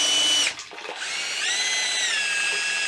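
A 1975 Mercury 20hp outboard motor running at low RPM near idle, roughly 1,000 rpm, giving a steady, close, high-pitched whine that dips briefly and then settles with a slowly shifting pitch.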